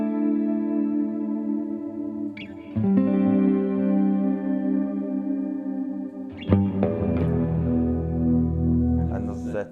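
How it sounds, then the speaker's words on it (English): Electric guitar chords ring through a room reverb effects pedal, sustained and washy, with new strums landing over the decaying tail of the previous ones. "There's a kind of room reverb that I'm not a million miles keen on."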